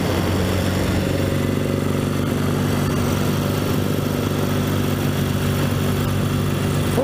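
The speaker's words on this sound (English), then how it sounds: "as you can hear, it'll lug down a bit in the hills in fourth unless you've got a decent run." A 1964 Royal Enfield Interceptor Mk1 motorcycle engine lugs low in tall fourth gear on a hill, a steady, loud, close-up throbbing drone heard alone without any talk.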